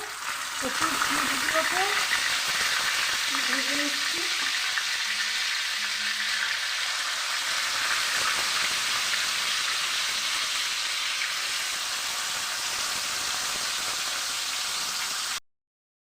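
Egg toast with cabbage frying in white oil on a tawa over a medium gas flame, a steady close sizzling hiss that continues evenly throughout and cuts off abruptly at the end.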